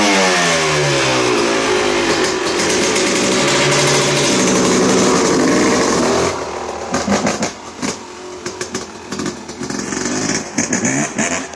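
A 2012 Yamaha YZ250 two-stroke motocross bike revs hard and loud up close, its pitch climbing and falling through sustained throttle, then breaking into choppier, uneven bursts of blipping in the last few seconds.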